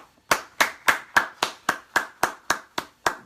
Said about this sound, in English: Big round of applause for Paloma, who's going to join us today.